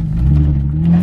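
A Nissan 350Z with a manual gearbox revs loudly and up close, its engine holding a deep, steady drone that swells slightly near the end, with no voices.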